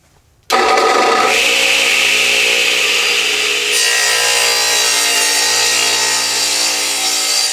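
A Delta 12-inch radial arm saw rips through a wooden board in one loud, sustained cut, its steady motor whine and blade rasp running unbroken after a sharp start.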